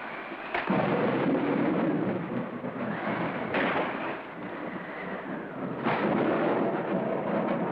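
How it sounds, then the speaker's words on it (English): Heavy rain roars steadily while thunder cracks and rumbles several times, sharp onsets followed by rolling booms. "That's the worst storm I've ever seen."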